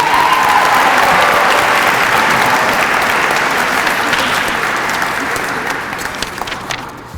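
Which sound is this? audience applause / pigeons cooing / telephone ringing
audience applause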